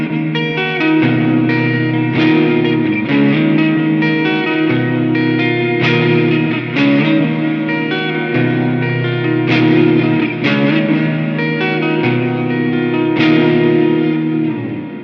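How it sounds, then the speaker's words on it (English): An electric guitar plays chords through a Flamma reverb pedal set to church mode in a POD GO effects loop, each strum ringing out with a long, washy tail that blurs into the next. The playing is steady and loud, with no talking. "that's mode 3, which is the church reverb"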